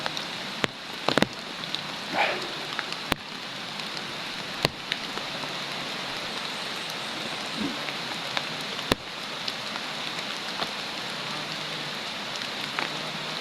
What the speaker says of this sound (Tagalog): Ulan po, ang panahon ngayon.